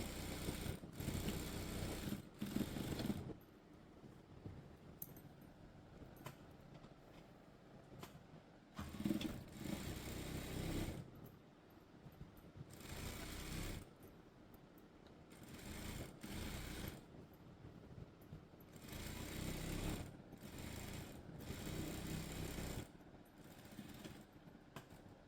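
A sewing machine stitches a school uniform top in short, rapid whirring bursts separated by quiet pauses. The sound is close but fairly soft.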